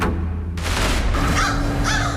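Crows cawing harshly over a field where a man was killed, several rough overlapping calls in quick succession against a dense, noisy outdoor background.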